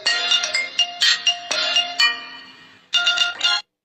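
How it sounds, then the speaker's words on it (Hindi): A caller-name ringtone plays on an Android phone: loud, close bursts of chiming melodic tones, a long decaying note, then a final burst that cuts off abruptly. "Mahesh new ringtone downloading now"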